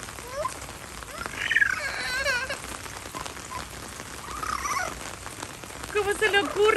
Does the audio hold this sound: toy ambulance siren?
no